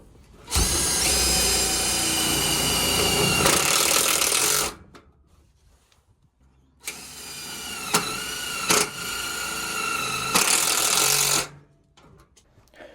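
A power drill drives 3/8 tek screws through gate hinges into a post, giving two loud, sustained high whirring bursts separated by a pause, with short stutters near the end of the second.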